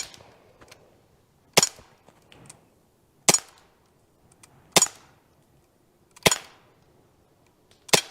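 Sharp, loud toy cap-gun shots ring out alone, five in all, spaced roughly one and a half seconds apart, each a crisp crack with a short tail.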